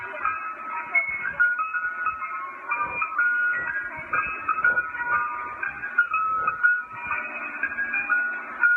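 An ice cream truck plays its jingle, a bright, tinny chiming melody looping steadily for several seconds at moderate volume, with faint knocks and handling noise underneath.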